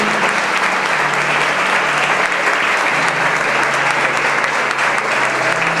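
A church congregation claps steadily and loudly together in sustained applause at a gathering, a dense even wash of hands with no talk over it.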